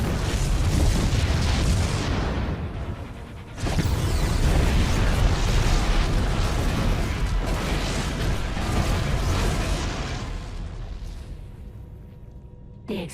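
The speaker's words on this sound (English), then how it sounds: "The explosions have stopped." Explosions in a StarCraft 2 Heart of the Swarm cinematic: deep, heavy rumbling booms roll on continuously and loudly, with a brief break and a renewed blast, then fade toward the end.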